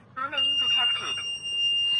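The buzzer alarm of a violence detection system sounds a steady, piercing electronic tone that starts right after a brief voiced cry and continues unbroken to the end, with a voice briefly over it.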